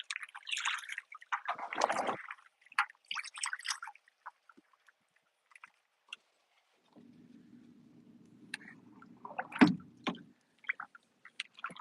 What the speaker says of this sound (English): I'm going to keep paddling until I get to the other side of the bank here